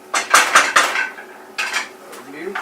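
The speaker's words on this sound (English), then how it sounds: "And now just give it a rough mix." Spaghetti aglio e olio with chili flakes is tossed in a pan, with a short burst of close metallic clinks and scrapes of utensil against pan and a few quieter knocks after.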